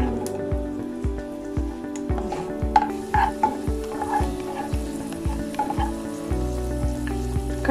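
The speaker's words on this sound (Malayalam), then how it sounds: "ഒരു പാനിൽ നമ്മൾ നിറനെയ് ചൂടാക്കി നമുക്ക് ഇനി കശുവിൻ്റെ കിസ്മിസും വറുത്തെടുക്കാം." Cashews fry in hot ghee in a pan, sizzling steadily while a spoon stirs them with repeated scraping and clinking taps against the metal.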